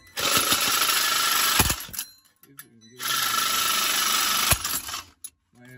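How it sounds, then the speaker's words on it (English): A Sawzall reciprocating saw cuts off catalytic converters under a Ford F-150 in two loud, close, buzzing bursts of about two seconds each, separated by a short pause with faint rattling. "hopefully you don't fall from the sawzall shaking. But go ahead and cut these things."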